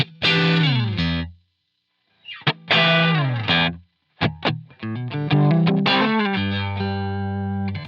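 Electric guitar through a Line 6 Helix with EQ, playing chords and single notes with a shaped, effected tone, loud and close, phrases separated by brief pauses.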